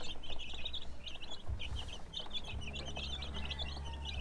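Rhode Island chickens kept in a coop cluck and chirp continuously at close range, a busy flock chatter over a low background rumble.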